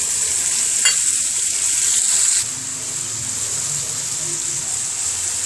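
Beaten egg goes into frying onions with a loud hissing sizzle and scraping stirs; the bright sizzle drops to a softer, steadier fry partway through.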